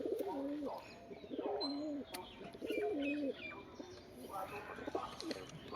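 A loft of Teddy and Rampuri pigeons coos quietly in a rhythmic series of soft, rolling calls, several repeating at a distance, with faint chirps and low background noise.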